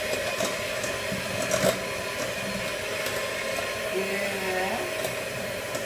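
Electric hand mixer beating a boxed dessert mix, a steady whirring motor hum running throughout at moderate volume with slight changes in pitch as the mixture thickens.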